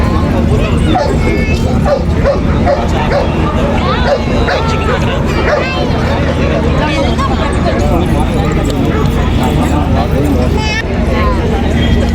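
Dogs of many breeds bark, yip and whimper constantly at a crowded dog show, loud and close, with crowd chatter and voices underneath throughout.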